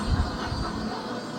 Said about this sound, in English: The second locomotive, known as the road engine, will then pull the rest of the train across the trestle.